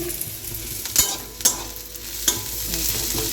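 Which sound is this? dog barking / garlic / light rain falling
garlic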